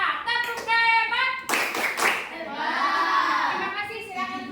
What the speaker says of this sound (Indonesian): Kasih tepuk hebat buat kelompok 4. Tepuk hebat.